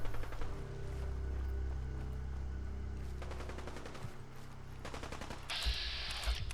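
Rapid bursts of gunfire in the Fallout 4 game, two clusters of quick repeated shots rattling over a steady low ambient drone, with no talking.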